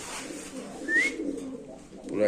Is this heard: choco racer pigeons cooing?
yes